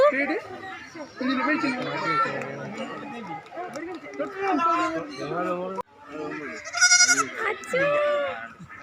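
A lamb bleats several times close by on a farm in Chavakkad, Thrissur, mixed with people talking and chattering around it.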